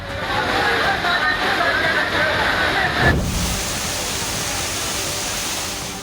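Floodwater from heavy rain rushes through the streets of Todaraisinghpur in Tonk, Rajasthan, a loud, continuous roar of water that shifts to a broad, even rush partway through.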